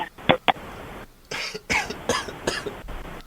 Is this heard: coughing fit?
yes